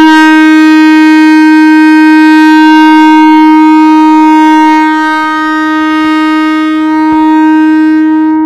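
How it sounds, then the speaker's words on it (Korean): Clarinet sounding a single steady held F, the left thumb covering the rear hole, a pure sustained tone played close and loud, alone, with a few faint clicks near the end. "왼손 엄지를 여기 뒤쪽에 있는 홀을 막아줍니다. 이게 음정 파가 되어 있습니다"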